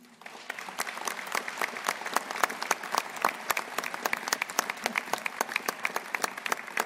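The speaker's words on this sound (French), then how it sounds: "je vous propose que vous l'applaudissiez." Audience applause at a New Year wishes ceremony in a French town hall setting, a steady, dense burst of many hands clapping close by for nearly seven seconds, with no talk over it.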